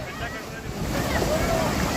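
Surf washes onto Tarkarli beach in Konkan while wind buffets the microphone, and a voice is faintly present under the steady rush of water.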